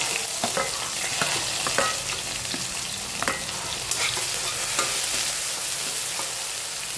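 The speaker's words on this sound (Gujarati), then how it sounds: "એમાં આપણે ડુંગળી એડ કરી દઈએ." Onion goes into hot oil with cumin seeds, frying with a loud, steady close sizzle and frequent clicks and scrapes of stirring throughout.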